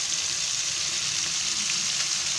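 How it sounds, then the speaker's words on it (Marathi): Bombay duck (bombil) fish pan-frying in oil, giving off a steady, dense, close sizzle that holds evenly without a break. "असे थोडे तरतरत आहेत ना"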